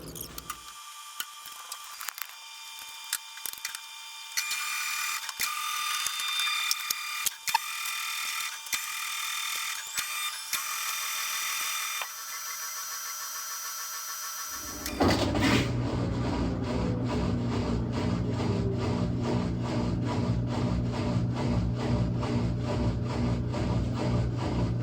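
Maytag washing machine running a rinse and spin cycle: at first clicking and ticking mechanical sounds, then a steady, closer whirring hum with a regular rhythmic pulse once the drum gets going.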